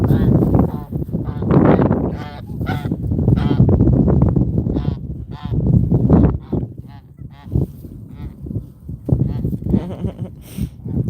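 Geese on a farmyard honk repeatedly and loudly up close in a busy, overlapping chorus, with a person talking at times in between.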